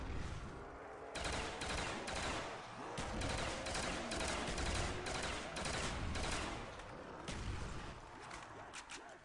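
An upgraded FAL assault rifle fires in a video game, sending out a steady stream of rapid three-round bursts. The shots are sharp, loud and close, and they run continuously over a dense, reverberant backdrop.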